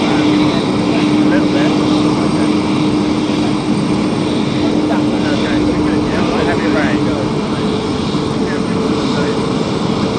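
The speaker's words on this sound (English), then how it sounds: "He'll have to taxi down the runway, I think." An Embraer E195-E2 jet taxis at London City Airport, its engines a loud, steady roar and whine that fills the whole stretch, while people talk over it.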